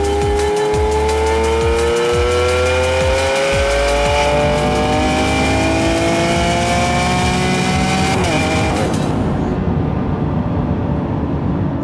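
A Lamborghini Aventador SV in Corsa mode revs and accelerates hard, a loud rising howl climbing through several gears with sharp shift breaks. The sound cuts off abruptly near the end, leaving quieter rumble.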